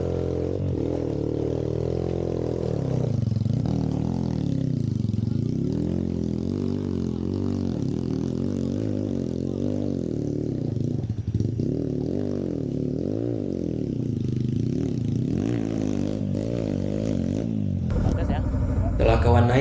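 A Suzuki V-Strom motorcycle engine labors climbing a steep off-road uphill, nearly stalling, its low drone rising and dipping unsteadily as it strains, with a voice talking over it throughout.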